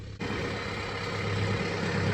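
A tractor engine with a Daedong engine idles in a steady, low, continuous rumble, close and loud with no talk over it.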